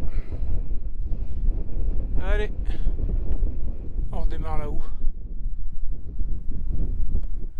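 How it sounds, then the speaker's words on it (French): Strong wind buffets the microphone on a mountain hike on the GR 58 Tour du Queyras, a constant loud rumbling roar throughout, with someone speaking briefly over it. "il y a du vent, pas mal de vent, j'espère que vous m'entendez bien"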